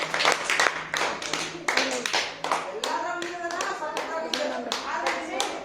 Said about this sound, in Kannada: ಫೋಟೋ ಚಪ್ಪಾಳೆ ಹೊಡಿರಿ ಎಲ್ಲಾರು